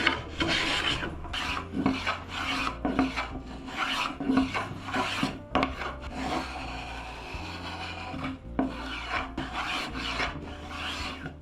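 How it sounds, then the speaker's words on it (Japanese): Rhythmic back-and-forth rasping of sandpaper flattening wood on a bass guitar being restored, repeated strokes at a steady pace, close and distinct. "飛び出ている部分をカンナで削り、紙やすりで平面を出しておきます。"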